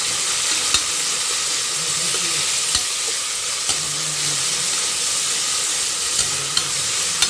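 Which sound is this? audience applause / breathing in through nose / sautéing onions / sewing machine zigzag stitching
sautéing onions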